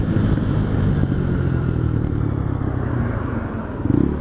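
Motorcycle being ridden, a dense low engine rumble with wind buffeting that holds steady and close for the whole stretch, with a brief louder swell near the end.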